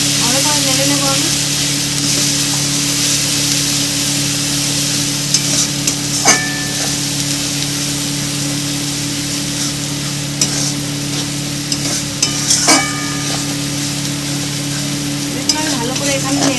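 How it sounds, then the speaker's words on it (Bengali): A spatula stirs ginger-garlic paste in a frying pan for a bhetki fish-bone curry. It gives a continuous close sizzle with recurring scraping strokes, and a voice speaks over the frying. "ভালো করে নেড়ে নেব আমি।"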